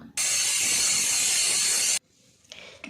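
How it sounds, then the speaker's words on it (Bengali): A pressure cooker cooking eggless tarka lets out a loud, steady rush of hissing steam for about two seconds, then cuts off abruptly, leaving faint clinks and softer sounds. "প্রেসার কুকারটাকে ঢাকা দিয়ে 4টে সিটি দিয়ে তারপরে খুলব"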